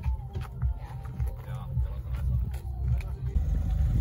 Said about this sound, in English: So, EVO MR leaving the shoot.